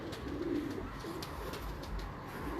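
A grey breeder pigeon coos in a few low, rounded phrases close by, over a steady background hiss in the loft.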